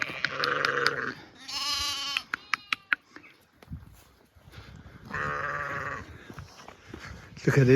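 Several sheep bleat loudly and close by in quiet countryside, long wavering calls with short gaps between them, and a few distant bleats overlapping.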